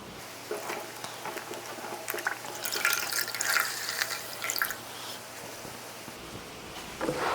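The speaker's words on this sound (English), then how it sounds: "clean rag, and we're going to basically wring this out" Water dripping and trickling from a clean rag wrung out by hand during a car dashboard restoration, a soft splashing patter that swells in short bursts without speech.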